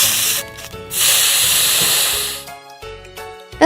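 A steam iron lets out a strong continuous hiss that holds for about two seconds, then breaks off into a few shorter puffs and faint clicks. No one speaks over it.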